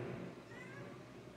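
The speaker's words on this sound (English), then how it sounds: "Y'all hear my cats?" Pet cats meow indoors, a short faint mewing call heard against quiet room noise.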